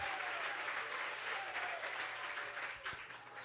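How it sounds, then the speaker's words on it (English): A high school baseball crowd at a state championship game cheers and claps steadily, a dense sustained wash of applause heard from the stands at some distance. "Ought to hear the Mustang crowd get into it right here."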